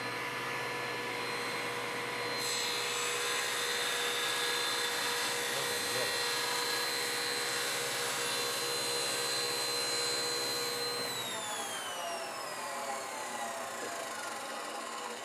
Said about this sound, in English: then we will drill out the holes so they will set properly